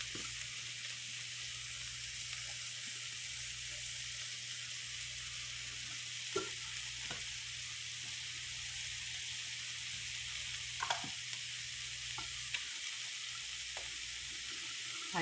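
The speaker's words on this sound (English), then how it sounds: "it's sizzling a little bit more now" Homemade breakfast sausages sizzle in a pan on a stove turned up to medium-high, a steady bright hiss running throughout with a few faint ticks and pops, close and alone without talk.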